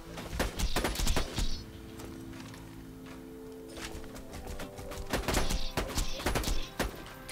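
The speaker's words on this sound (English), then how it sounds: "I think I'm going to use the sniper for this one." Sniper rifle shots fired at a turret in the shooter game Borderlands 2: sharp, loud cracks in two clusters near the start and end, separated by a quieter stretch of background hum.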